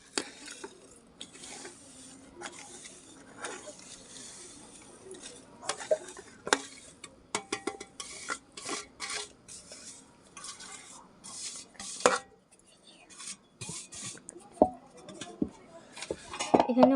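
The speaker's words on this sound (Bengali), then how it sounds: "অল্প অল্প দুধ দিয়ে মিশিয়ে নিচ্ছি" Crushed biscuits and powdered sugar are stirred with milk into a paste, giving irregular scraping and clinking of a spoon against a bowl, moderately close with short pauses.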